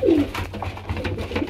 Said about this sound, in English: all the cockbirds are crowing and chasing everyone around